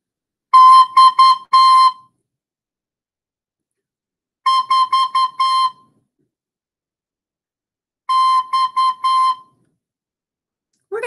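A recorder-style wind instrument sounds a short pattern of clear whistle-like notes on C, three separate phrases of rapid repeated tones with pauses between, played by a teacher and then echoed back by a student.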